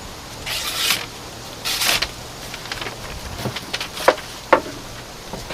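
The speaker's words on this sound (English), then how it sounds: "Let's slice into that paper." A sharp factory-edged Steel Will Druid 281 neck knife slices through paper in several quick, crisp swipes, close up and alone, with a couple of short rasping cuts near the end.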